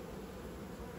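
Honey bees hum in a dense, steady, loud drone from an open beehive being worked, the buzzing close and unbroken throughout.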